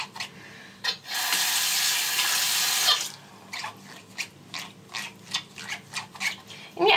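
Tap water runs strongly for about two seconds while makeup brushes are rinsed on a Sigma Spa silicone cleaning mat, then a series of short wet rubbing and scrubbing strokes follow in an uneven rhythm.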